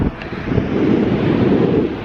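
Waves crash on the sand at Sandwood Bay in Scotland, a broad roaring wash of surf under heavy wind buffeting the microphone, close and loud for a couple of seconds.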